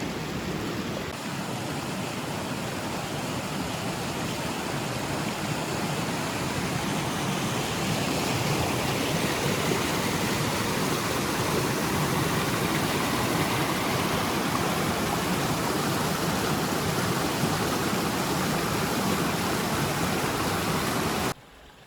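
A mountain creek near the Junction Lake trail in Kananaskis rushes steadily and loudly for the whole stretch, a constant broadband roar of flowing water with no voices.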